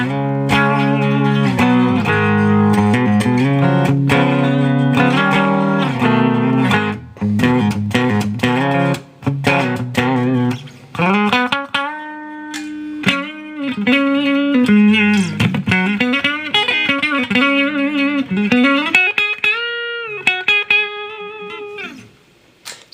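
A clean electric guitar plays alone through a Krank amp, with chords and single-note runs, some sustained and bending, fairly loud and close.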